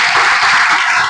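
A church congregation claps hands together in praise, a dense, steady, loud wash of many overlapping claps filling the short moment with no voices.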